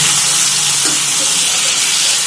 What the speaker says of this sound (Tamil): ஸோ இப்போது அப்படியே பொறுமையாக வதக்கும்